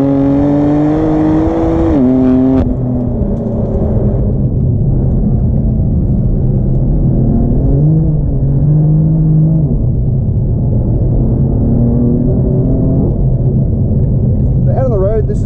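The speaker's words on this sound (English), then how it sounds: "as soon as you select second gear, it just lights up the rear tyres, which is pretty awesome" A 2018 BMW M4 CS engine drones loudly from inside the cabin, its pitch climbing, dropping at a gear change and rising again through the gears, with someone talking over it throughout.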